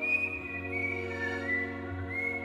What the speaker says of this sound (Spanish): Ojalá Burro dejara de silbar.